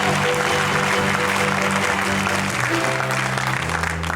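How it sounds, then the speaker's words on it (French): A church congregation claps together in warm, continuous applause that stays full and steady throughout, with a low murmur underneath. "Je suis étonné de voir seulement 10 personnes qui acclament"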